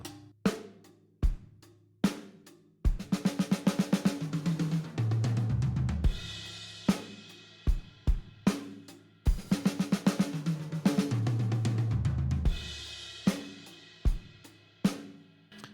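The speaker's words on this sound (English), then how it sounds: "So you play just a straight beat and then play the triplet fill" A drum kit plays a straight rock beat of kick, snare and cymbals, then breaks into a rolling eighth-note triplet fill down the toms that ends on a crash. The pattern plays twice, loud and close, with no talking.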